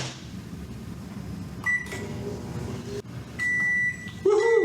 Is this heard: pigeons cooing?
no